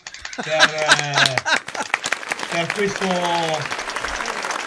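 On an Italian radio-style show, a brief round of clapping from a small group rises under and between a speaking voice, with some distinct hand claps as talk continues over it.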